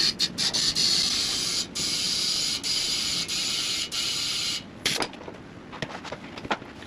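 Compressed air hisses into an ATV tire in steady bursts, with short breaks between them, then gives way to clicks and faint handling noises at the end.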